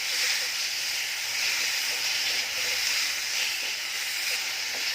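Eggplant fries with spices in a hot pan, giving a steady, close sizzling hiss that holds at an even level throughout with no talking.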